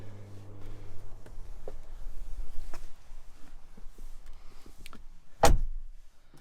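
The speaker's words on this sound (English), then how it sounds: "Nice little thud to close in the door." A solid car door of a 2024 Jeep Wrangler Rubicon 392 swings shut with a single deep thud near the end, after a few faint clicks and handling noises.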